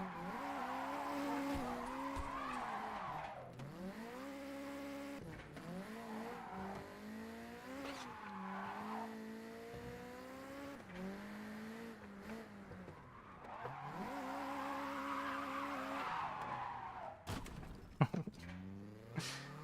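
Car tires squealing during a drift in a JDM racing video game, long wavering screeches rising and falling over an engine drone, with a short clattering burst near the end.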